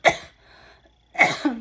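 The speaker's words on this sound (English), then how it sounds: "I'm sorry, I had to cough" A single sharp cough rings out, followed by a quiet pause, then a second throat-clearing cough that trails into a brief low voiced sound.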